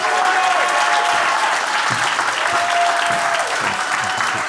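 A church audience breaks into sustained applause welcoming a guest speaker, dense steady clapping from many hands, loud and even throughout.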